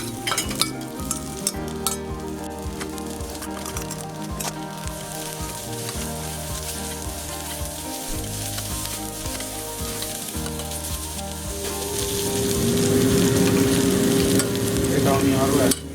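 Onion with red and yellow capsicum fries in a pan for chilli paneer. A steady close sizzle runs under occasional clinks and stirring, and the frying swells louder toward the end. Faint background tones sit beneath it and no one speaks.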